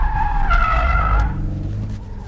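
A 2024 Ford Mustang GT drifts on a course with the drift brake, letting out a loud, close tire squeal and skid for about a second over engine roar, which then fades.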